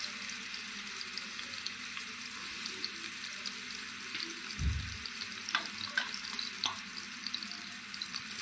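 Kethara fish fries in hot oil, giving a steady close sizzle throughout with a few faint clinks and a soft low thud partway through.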